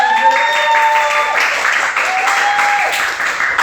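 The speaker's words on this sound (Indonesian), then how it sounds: "Tepuk tangan dulu dong. Satu studio." Studio audience applause on a talk show, a loud steady wash of clapping, with a sustained tonal sound running through it at the start and again midway.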